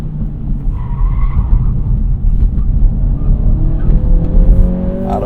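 A 2023 Integra with a six-speed manual and front-wheel drive is pushed through a turn, its tires skidding and scrubbing over a steady engine drone that climbs in pitch toward the end. The sound is loud and close, with no talking.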